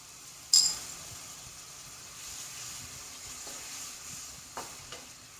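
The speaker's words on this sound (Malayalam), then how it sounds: "ഈ പുളി ഒന്നും ഇങ്ങോട്ട് തിളച്ച് വരട്ടെ" A pot of tamarind and chili curry made with rice water simmers with a faint, soft bubbling sizzle, broken by a sharp utensil clink near the start and a couple of lighter taps later.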